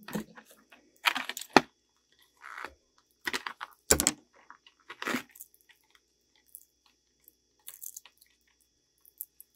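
Scissors snip at sticky plastic wrapping on Nightmare Before Christmas merchandise, giving irregular crinkly crunches and cuts in short bursts with quiet gaps, close up.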